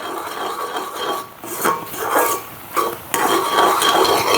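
Thick jamun fruit jam being stirred in a pot, a spoon scraping and rasping against the sides and bottom in steady, close, uneven strokes with no talking.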